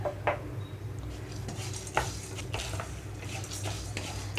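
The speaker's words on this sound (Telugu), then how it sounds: "పుట్నాలు పప్పు వేసిన తర్వాత థర్టీ సెకండ్స్ పాటు లో ఫ్లేమ్లోనే ఉంచి వేయించుకుంటున్నాను" Chana dal and unpeeled garlic cloves dry roasting in a pan over a low flame, giving a steady soft rustle with a few sharp clinks of a spoon against the pan, close by.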